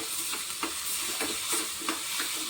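Food frying and being stirred in a small tempering pan on a gas stove, a steady close sizzle broken by regular scraping strokes of the spoon, with no talking.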